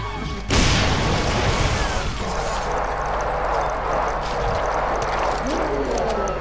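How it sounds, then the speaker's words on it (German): A grenade goes off in the Brutal Doom mod Extermination Day, a sudden loud boom followed by a long rumbling, crackling wash of debris and noise that lingers for several seconds. "hier nutze ich jetzt tatsächlich mal eine Granate einfach"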